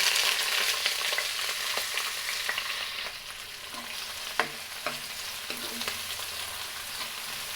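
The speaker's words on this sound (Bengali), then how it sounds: "তেলটা গরম হওয়ার পরে আমি এখানে পেঁয়াজ কুচি, রসুন কুচি আর কাঁচামরিচটা আস্ত নিয়েছি, দিয়ে দিলাম।" Chopped onion, garlic and whole green chilies fry in hot oil, a bright steady sizzle that eases slightly as a utensil stirs with a few light clinks and scrapes.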